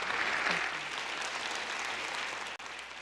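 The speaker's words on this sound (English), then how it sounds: "just by hearing the applause constantly throughout the panel" An audience applauds panel speakers at a justice summit, steady sustained clapping from a large crowd that carries through without pause.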